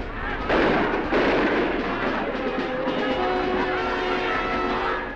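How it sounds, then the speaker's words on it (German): Soldiers fire guns in a tense standoff, a dense, sustained roar of rapid shots and booming reports that stays loud throughout, with no speech. "Die Situation ist angespannt und die Russen beginnen zu schießen."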